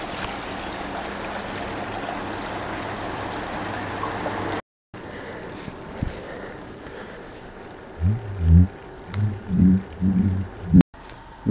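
The Miño river rushes past an old mill as a steady broadband wash of flowing water for several seconds, then drops quieter with a few low thumping bursts near the end.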